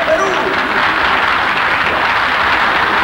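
An audience applauds steadily and loudly for a Peruvian band at a live show, a dense unbroken patter of clapping throughout.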